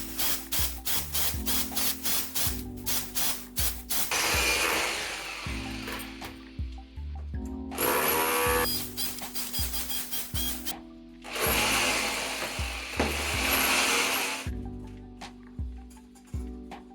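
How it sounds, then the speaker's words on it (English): Expanded clay chimney blocks being cut by a power tool, with bursts of harsh grinding and rasping separated by short gaps and faint mechanical clatter, close and fairly loud with no talk. "Luckily our chimney is made out of the same expanded clay blocks, so they're really easy to cut through."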